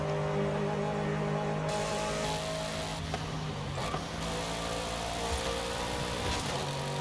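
McLaren Sabre with a 4-liter twin-turbo V8 in Forza Horizon 5, droning at a steady high rev with a strained, buzzy tone and slight pitch shifts, loud and continuous with no talking.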